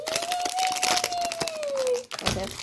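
Birthday gift wrapping being torn open and crinkled up close, a continuous papery rustle running for about two seconds with a steady tone over it, then a short pause and more crackling.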